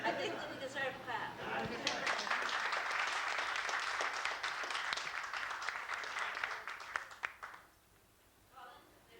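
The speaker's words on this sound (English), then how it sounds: "I think that we deserve a clap." Warm applause from guests at a wedding anniversary gathering, a lively burst of many hands clapping with some chatter and laughter mixed in, building then fading out near the end.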